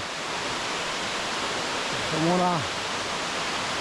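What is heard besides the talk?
waterfall in Istria, Croatia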